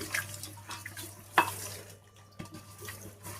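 Fish pieces being washed by hand in water with salt and curd, giving quiet splashes and sloshing with a few sharper knocks against the bowl, fairly faint and close.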